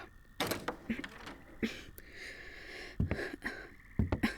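A door being handled and opened inside a house, heard as several sharp clicks, thumps and knocks spread across the moment, fairly close and moderately quiet, with no one speaking.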